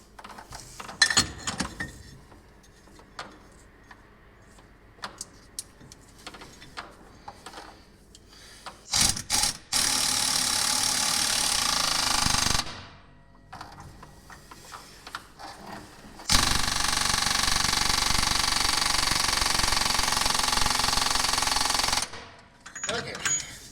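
A pinion nut being run onto a Jeep Wrangler axle with a power tool. Two long, loud, continuous whirring bursts are separated by clanks and handling noise.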